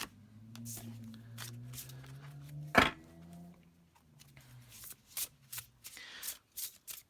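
A Tarot de Marseille deck is shuffled and bent, cards riffling and slapping together in quick, soft bursts, with a low hum early on and a sharp snap midway.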